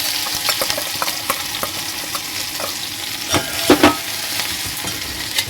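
Garlic and green chilies fry in hot oil, a steady sizzle broken by occasional stirring scrapes and a few louder spatters near the end, with no talking.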